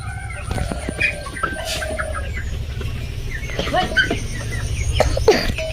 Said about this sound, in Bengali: মা এখন আমাদের ছোট মুরগিগুলোকে খাবার দিচ্ছে